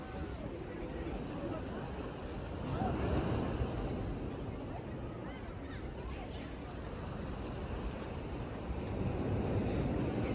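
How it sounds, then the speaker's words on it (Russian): Sea waves wash ashore at Odessa in a soft, continuous surf, faint and distant, mixed with wind noise across the microphone. "Волна такая сегодня, ребята, вообще."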